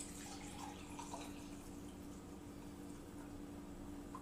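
Pan juices from a roast turkey poured into a glass measuring cup, a steady liquid trickle running close and continuous with faint higher splashes, no talk.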